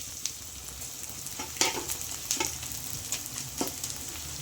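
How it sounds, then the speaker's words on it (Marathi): Edible gum (dink) frying in hot ghee in a kadhai for dink laddoos, a steady close sizzle with a few sharp crackles and stirring scrapes, no talking. "त्यासाठी तूप घेतलं आहे मस्त त्याच गरम कढईमध्ये, त्याच्यात आपण डिंक तळून घ्यायचा।"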